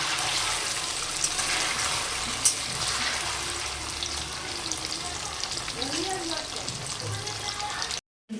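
Paneer cubes fry in hot oil in a pan, giving a steady, close sizzle that crackles throughout before cutting off abruptly near the end.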